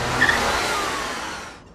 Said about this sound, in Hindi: गाड़ी रोको।